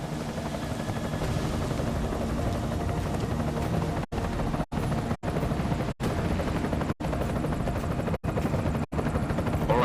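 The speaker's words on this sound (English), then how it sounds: "Enemy helo sighted." Enemy helicopter in the video game Deus Ex Mankind Divided, a loud, steady rotor drone filling the whole clip, broken by several brief dropouts near the end.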